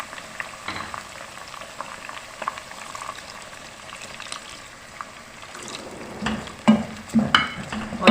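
Chicken and onions sizzle and bubble in a pan, then water is poured in and the mix boils hard, with louder splashes and stirring clatter near the end.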